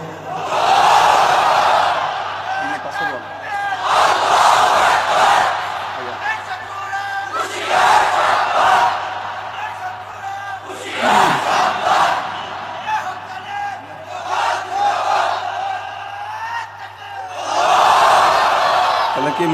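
A large crowd at an Islamic religious gathering roars a takbir response in several loud, sustained collective shouts, each swelling and fading over a few seconds, with a steady low hum of the sound system underneath.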